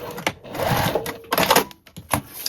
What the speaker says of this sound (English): we're going to clip the bottom edge and sew a seam across the bottom at the given seam allowance